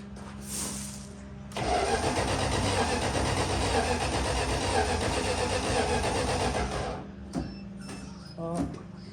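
A 1978 Dodge Aspen Super Coupe V8, which has sat unused for 30 years, cranks and sputters loudly for several seconds near the microphone. The engine then cuts out, and a few short mechanical knocks and a brief voice follow.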